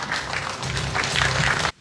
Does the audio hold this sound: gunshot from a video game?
no